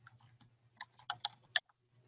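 Typing on a computer keyboard into a web search box, a quick run of small crisp key clicks growing slightly louder toward the end, quiet and close with a low steady hum beneath.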